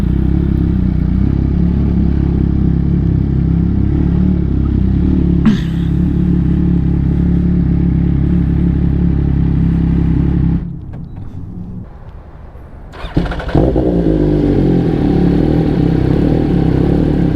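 An MV Agusta motorcycle engine runs loud and close at a gas station. It holds a steady idle with a clattering note, drops out briefly, then catches again and keeps running. No one speaks.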